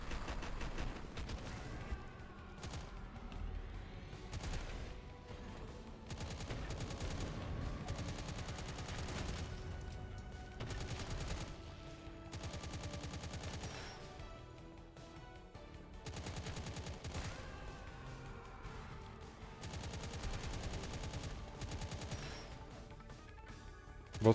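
Enemy gunfire in the retro arena shooter Impaler comes as rapid bursts of shots and repeated blasts, faint and layered over a busy game soundtrack with no voices.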